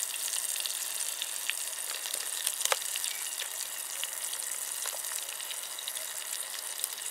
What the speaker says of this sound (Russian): Сразу добавляю масло с луком.